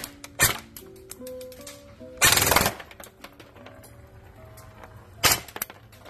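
A JG T3 SAS-G airsoft gun fires in full auto, producing three short, loud rattling bursts separated by quieter pauses, heard indoors with faint background noise.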